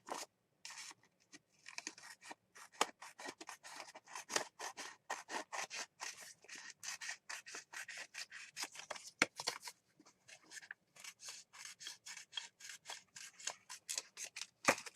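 Scissors snip through a gel print, cutting it into smaller collage pieces: a long run of quick, crisp, closely spaced cuts at close range with short pauses between them, and no voices.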